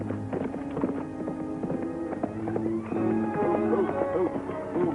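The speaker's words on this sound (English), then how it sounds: "That's Al's horse." Hooves clip-clop in a quick, steady rhythm beneath swelling orchestral music, moderately loud and fairly close.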